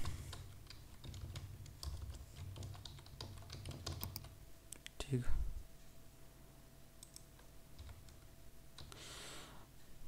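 A web address typed on a computer keyboard, with rapid, close clicking keystrokes over the first five seconds, then a few scattered taps and a short rustle near the end.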